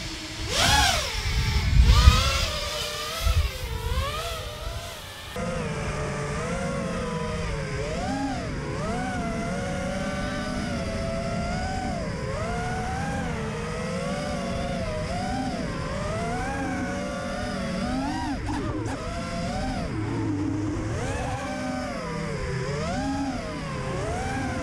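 Drone flying with a damaged red-bottom motor: a loud, steady high-pitched whine that wavers and swoops in pitch as the craft maneuvers, after a few seconds of rougher clattering at startup.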